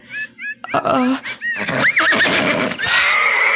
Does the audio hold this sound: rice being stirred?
no